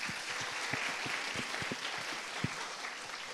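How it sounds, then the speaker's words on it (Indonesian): Audience applause at a youth festival event, a steady, moderately quiet patter of many hands clapping, with a few sharper individual claps standing out. "Tepuk tangan."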